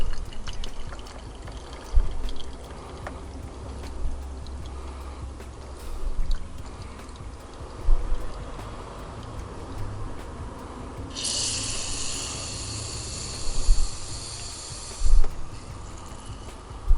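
An AeroPress plunger is pressed slowly and steadily, forcing brewed coffee down through the filter: a low, quiet rumble that builds to a brief airy hiss near the end of the press.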